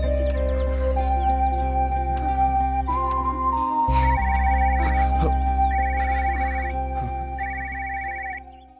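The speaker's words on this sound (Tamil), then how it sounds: "என் வீட்டுக்காரன் தான் ஃபோன் பண்றா" A mobile phone rings loudly with an incoming call, a steady repeating melodic ringtone that continues for several seconds and is heard alone, with a brief dip partway through.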